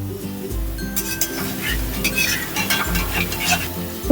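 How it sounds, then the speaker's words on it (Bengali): Bitter gourd pakoda sizzles in hot oil in a pan while a utensil clinks and scrapes, turning the pieces, with close, repeated stirring knocks over a steady frying hiss. "আমি এবার উল্টে দেব দেখুন কত সুন্দর ভাজা হয়ে যাচ্ছে"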